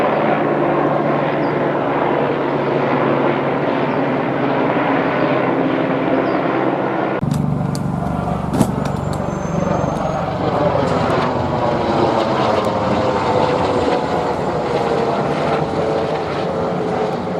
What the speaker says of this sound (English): That's your ABC-7 chopper.